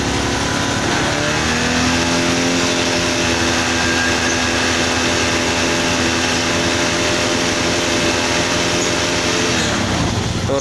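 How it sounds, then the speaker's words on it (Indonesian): A Honda Beat ESP motorcycle with a misfiring, stuttering engine revs steadily under held throttle, a loud, continuous buzzing drone close by that sustains throughout and drops away at the very end. "Ya digas naik, tambah naik, ya gas terus naik"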